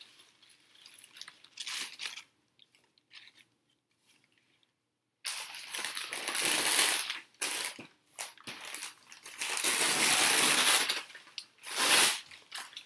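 Paper being crunched and crumpled in bursts, loud and close, with brief pauses between the rustling crunches and no talking.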